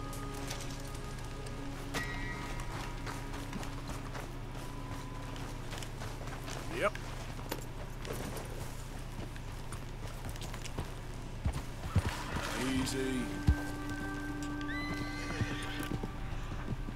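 A horse in the Red Dead Redemption 2 video game clip-clops along with hoofbeats and breathy snorts, letting out a few whinnies, over a constant low background score and ambient game sounds.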